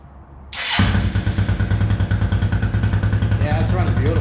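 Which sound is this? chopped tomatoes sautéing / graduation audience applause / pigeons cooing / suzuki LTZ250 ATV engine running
suzuki LTZ250 ATV engine running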